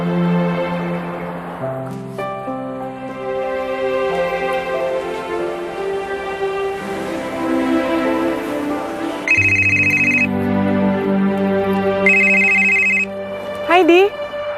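A telephone ringtone repeats unanswered while someone waits on the line, two clear bursts over background music, close and fairly loud.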